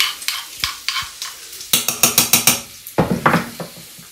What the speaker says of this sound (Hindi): मेल्ट हो गया है सारा बटर अब मैं इसके अंदर डालूंगी गार्लिक जो हमने चॉप किया हुआ था